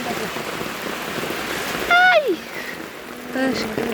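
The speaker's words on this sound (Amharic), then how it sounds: "ዝናቡ ከመጀመሪያም እየባሰበት ነው" Heavy rain falling outdoors, a steady close wash of drops, with voices exclaiming over it.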